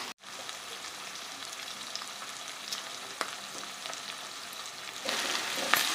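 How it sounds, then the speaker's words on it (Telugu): Ripe red chili pieces fry in a pan for a chutney, giving a steady, close sizzle with small crackles and a brief stir, rising a little louder near the end. "ఇప్పుడు పండుమిర్చి ముక్కలు వేయాలి."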